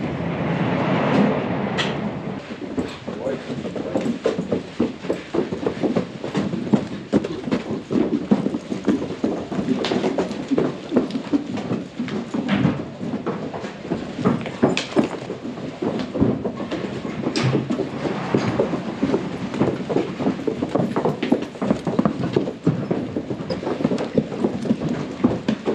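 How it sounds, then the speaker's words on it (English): Several horses clop steadily on hard ground as they walk in from pasture for the afternoon, a dense, continuous patter of hoofbeats close by, with no talk over it. "So it's time to let in the horses for the afternoon."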